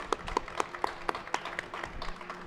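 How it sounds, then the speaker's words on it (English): A small audience gives a brief, scattered round of applause at an ultramarathon pre-race interview event, individual claps distinct and fairly quiet. "Big round of applause for Diana Fitzpatrick."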